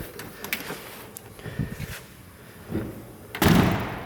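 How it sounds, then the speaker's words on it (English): The door of a 1966 Ford Mustang swings shut with a solid, close thud near the end, after some soft handling clicks and rustles. "Door closes just as good as the other one."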